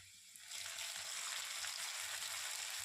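Chopped chili drops into a hot pan for dhaba-style egg tadka. A quiet moment gives way to a sudden burst of sizzling that holds steady and fairly soft, with faint stirring and no voices.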